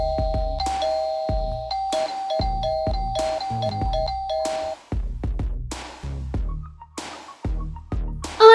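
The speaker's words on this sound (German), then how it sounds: "Na dann klingel ich mal." A doorbell chimes in the Toca Boca video game, sounding a few clear electronic ding-dong tones over light game music, with nobody speaking.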